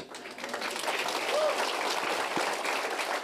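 A church congregation applauds and cheers at an Easter celebration, a steady wash of clapping that stays loud throughout, with voices mixed in the crowd noise.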